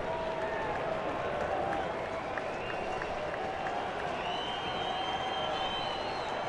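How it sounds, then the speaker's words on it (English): Baseball stadium crowd at a Minnesota–Seattle game applauding a pitcher's effort, a steady wash of distant clapping and crowd murmur with faint whistles throughout. "Crowd liking the effort too."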